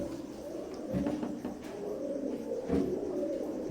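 Imported Teddy pigeons cooing close by, soft low throaty coos rising twice over a quiet background, with no talk.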